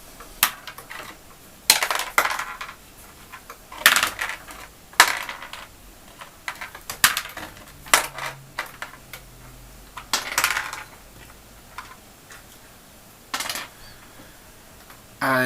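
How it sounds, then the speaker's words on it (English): Dice for a miniatures tabletop game are re-rolled in quick bursts of sharp clattering, hard plastic tumbling and knocking on a table at close range, with short pauses between the rattling rolls. "At the end of the turn, each dice gets re-rolled."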